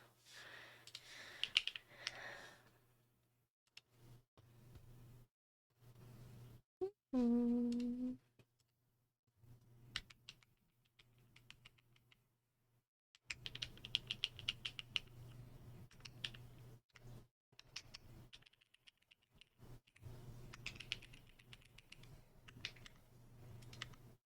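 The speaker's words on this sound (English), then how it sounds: "Okay, let me test the keys." Clacky typing on a Divinikey x Modo Tess65 mechanical keyboard, bursts of rapid close keystrokes separated by pauses, with a brief tonal sweep partway through and a low steady hum underneath.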